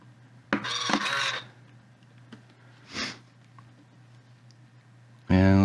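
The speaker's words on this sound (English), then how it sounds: "where the stick's all the way over, it makes kind of like a dull clicking sound" Dull clicks from the transmitter stick of a Top Race TR-212 RC dump truck, a few short bursts spaced apart with a louder one at the end, close up and mostly alone.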